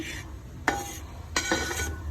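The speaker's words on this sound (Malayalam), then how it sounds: "കറുത്ത എള്ളും കൂടെ ചേർത്ത് ഏലക്കാപ്പൊടിയും പൊടിച്ചിട്ട് നന്നായിട്ട് വറുത്തെടുക്കുകയാണ്" Moistened rice flour with cumin and black sesame is dry-roasted in a pan, heard as quiet, intermittent scraping stirs and brief gritty rustles against a low background.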